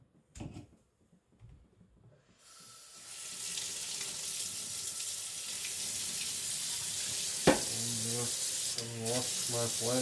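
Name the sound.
washing and scrubbing diamond sharpening plate under water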